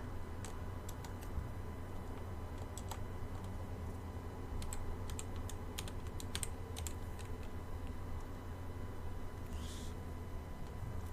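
Keys clatter on a computer keyboard in quick, irregular bursts of clicks over a steady low room hum, fairly faint and close, with no one speaking.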